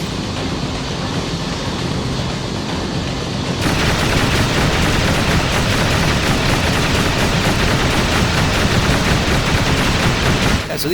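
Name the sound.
turret gunfire in Vanquish video game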